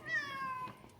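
Pet cats meow indoors, one clear drawn-out meow close by followed by a quieter trailing sound, with no talking over it.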